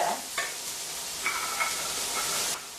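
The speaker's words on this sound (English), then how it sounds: "so let's just give it a stir fry" Chopped vegetables and spinach being stir fried in a pan, a steady loud sizzle with brief scraping stirs and clatters of the utensil, close up and without talking.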